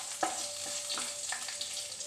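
Crushed garlic fries in a pan for bitter gourd gojju, a soft steady sizzle with a few light stirring clinks, faint and close, with no talk.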